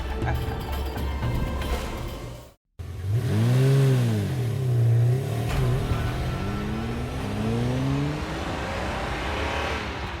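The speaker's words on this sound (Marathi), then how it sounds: "ते बघ चिखलात कोणाच तरी गाडी अडकली." A car engine stuck in mud revs repeatedly, rising and falling in pitch as it strains, loud and close, with no voices.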